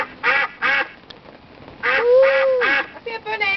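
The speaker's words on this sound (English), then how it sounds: "You may hear his quack with a bit of luck." Duck or goose quacking at an animal park attraction: a few loud, close, nasal honking calls in two bursts, with a brief gap between them and further short quacks at the end.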